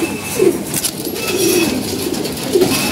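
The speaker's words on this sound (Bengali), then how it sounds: "এই যে মাদি কবুতর, অনেক সুন্দর একটা কবুতর।" Pigeons coo in low, soft repeated calls at a racing pigeon loft, with three or so distinct coos spaced over a few seconds against a busy background murmur.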